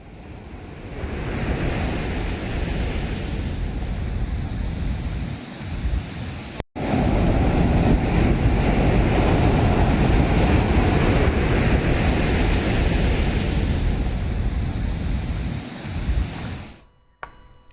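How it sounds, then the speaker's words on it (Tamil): Rough sea at Dhanushkodi, Rameswaram, with waves over six feet high crashing over the barriers, a loud, steady roar of surf and wind that carries on unbroken for the whole stretch. "ஆறு அடிக்கு மேல் எழும் கடல் அலைகளால் தடுப்புகளை தாண்டி கடல் நீர் தேசிய நெடுஞ்சாலைக்கு வந்தன"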